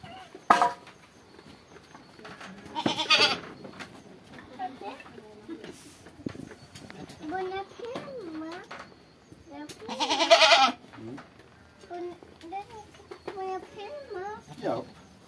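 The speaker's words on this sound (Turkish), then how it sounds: "senin o keçi seni çağırıyor bak, oraya gelmiş annesinin yanına" Goat at a farm pen calling with wavering bleats scattered through the stretch, at moderate distance, mixed with bird cooing and rustling while people talk.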